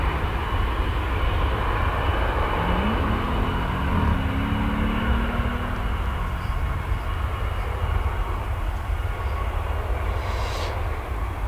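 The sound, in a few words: airplane taking off from DFW Airport runway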